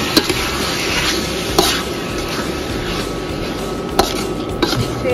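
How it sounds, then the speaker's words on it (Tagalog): Menudo being stirred in a pan, with a steady bed of low sizzling and a few sharp scrapes and clinks of a utensil against the metal, no talk over it. "Ayan, haluin lang natin siya ng maayos."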